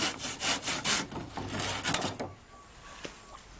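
A few quick, rough saw strokes cut through hollow bamboo up close, then the sawing stops and it goes quiet.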